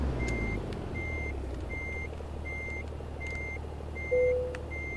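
A truck in American Truck Simulator backs up with evenly spaced electronic reversing beeps, about seven pulses over a steady engine drone, and a brief higher tone near the end.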